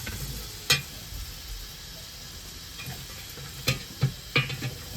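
Potatoes and peanuts sizzling in hot oil during tempering, cooked in a vehicle kitchen: a soft, steady low crackle, with a few sharp clinks and scrapes of stirring near the end.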